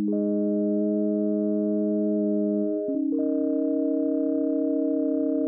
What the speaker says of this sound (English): You might be able to hear the slight pitch wobble in there.